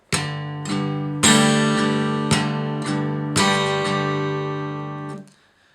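An acoustic guitar plays alone, alternating single low bass notes with fuller strummed chords in a steady pattern, ringing out at the end.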